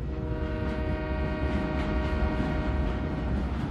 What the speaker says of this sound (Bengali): রাতের শেষ ট্রেন, ফাঁকা ট্রেনে কয়েকজন মানুষ